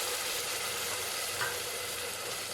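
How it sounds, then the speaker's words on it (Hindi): Steady, even sizzle of frying in a pan while a Hyderabadi mutton masala is cooked, just before ginger garlic paste goes in; continuous hiss with one faint stir partway. "तो इसे बस थोड़ा सा 5-6 सेकंड फ्राई कर लूँगी"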